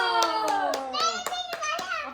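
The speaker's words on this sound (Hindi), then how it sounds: "ताली हो जाओ, ताली ताली ताली।" Sharp hand claps in an even rhythm, about eight in quick succession, close and clear, at a home during a family game, over a child's sustained sung or spoken voice.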